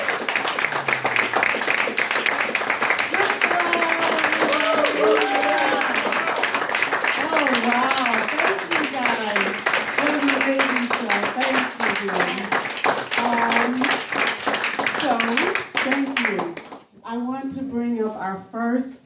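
A comedy show audience claps in a dense, continuous patter of applause while a speaker's voice talks loudly over it, the clapping thinning near the end.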